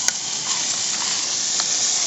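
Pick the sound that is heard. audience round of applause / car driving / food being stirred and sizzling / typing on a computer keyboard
food being stirred and sizzling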